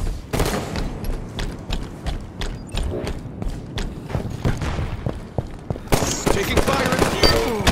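Rapid automatic gunfire in a Halo 5: Guardians Breakout round, 3-on-3, crackling in dense bursts through the whole stretch and swelling louder near the end, with occasional voices underneath.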